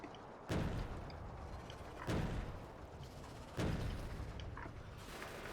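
A tank in the video game Factorio fires three heavy, booming shots spaced about one and a half seconds apart, each a loud broadband thump over a steady rumbling background.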